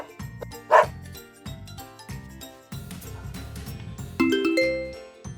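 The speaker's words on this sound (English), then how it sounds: "D is for dog." A brief cartoon-style dog bark pops out once over bouncy children's music with a steady pulsing beat.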